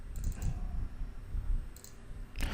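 Quiet computer mouse clicks in a short burst near the start, with more clicks again near the end, over a faint room hum. No one speaks.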